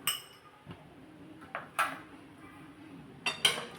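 Metal spoon scraping and clinking against a pan as a coconut and sugar mixture for coconut wadi is stirred, a few sharp clinks spaced out over quiet, soft scraping.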